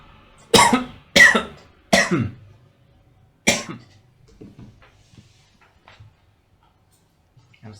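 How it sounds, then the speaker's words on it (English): Four harsh, close coughs, three in quick succession and then one more, followed by faint low murmuring. "I'm still coughing from yesterday's video."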